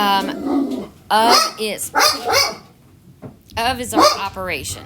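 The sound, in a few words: dog barking during a storm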